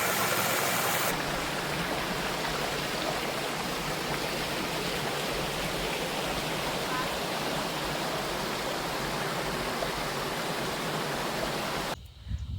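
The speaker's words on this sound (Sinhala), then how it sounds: "ඇහෙනව නේද වතුර වල සද්ද?" Stream water flows in a steady, full rushing wash near Hulangala, close and continuous for about twelve seconds with no talking, then it cuts off abruptly at the end.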